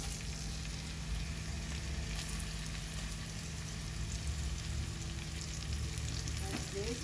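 Onions, garlic and spices frying in a pan on a stove, giving a steady, dense, close sizzle that runs unbroken throughout with no voices.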